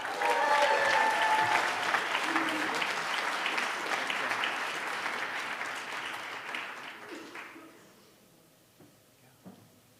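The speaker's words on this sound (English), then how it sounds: "Let's give another round of applause for the 18th graduating class." Audience applause for the 18th graduating class of a leadership academy at an annual meeting and awards event, a dense sustained clapping that thins and fades toward the end, leaving a few scattered claps.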